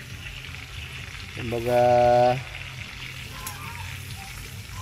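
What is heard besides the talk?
food frying in a pan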